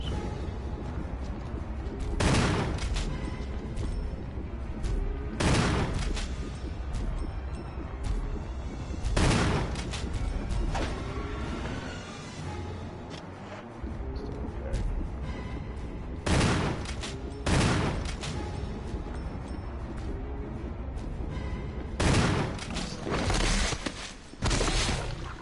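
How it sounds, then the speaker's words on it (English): An assault shotgun firing in a Resident Evil video game: heavy, booming blasts spaced a few seconds apart, each one loud and sharp, over a constant rumbling game backdrop with no talking. "The assault shotgun's really pretty good. Does a good enough job for this fight."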